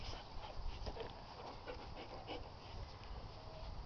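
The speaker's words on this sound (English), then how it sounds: "Who's those puppies?" Puppies pant steadily and close up for the whole stretch, with a few faint whimpers in the mix.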